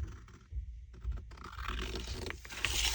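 Paper being cut with scissors while making a simple folio journal, a string of close, quiet snips and scrapes with light rustling, no talk.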